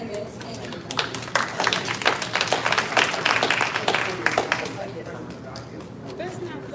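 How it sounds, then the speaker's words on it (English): An audience at a school board candidate forum in a high school gives the candidates a dense, lively round of applause that carries across the room, with voices and crowd chatter mixed in before it tapers off. "Big round of applause."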